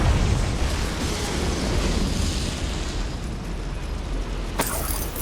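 A Confringo spell explosion in Hogwarts Legacy, set in a mine: a loud, broad rumbling blast that rolls on for several seconds, with a sharp crack near the end.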